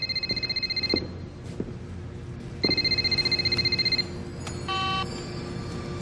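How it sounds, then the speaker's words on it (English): A telephone ringing in repeated electronic trill bursts, two long rings separated by a pause, then a brief different tone at the end, fairly clear against a quiet background. "It's ringing."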